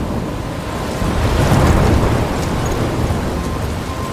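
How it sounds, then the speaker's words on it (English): Steady roar of heavy rain and wind in a storm from the Life Is Strange video game, thick and unbroken, swelling a little in the middle without distinct thunder claps. "I'm trapped in a storm?"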